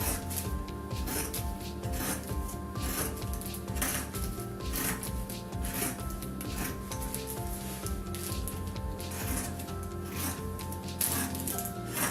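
Scissors cut through camouflage fabric for a girl's trousers in quick repeated snips and rustling drags of cloth, close and steady throughout, with no voices.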